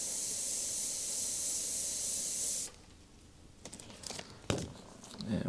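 An airbrush sprays paint for a bullet hole effect, a steady close hiss for a few seconds that stops abruptly, followed by quiet handling clicks and taps.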